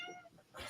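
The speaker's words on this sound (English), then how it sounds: "That's my cat." A house cat meows at close range in a short, quiet indoor burst, with a second brief cry toward the end.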